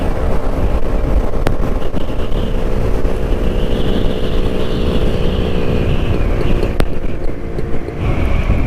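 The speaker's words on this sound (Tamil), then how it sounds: "ஸோ 100 km ஸ்பீடில் போயிட்டுருக்கு வண்டி." A vintage Jawa motorcycle cruising at about 100 km/h gives a steady, loud engine drone mixed with strong wind rush, continuous throughout with no talk.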